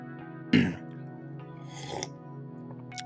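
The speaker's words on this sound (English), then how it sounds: "let me take a quick little cough and a sip of tea here" A single cough at close range, a short loud burst followed by a quieter clearing sound about a second and a half later, with a low steady hum underneath.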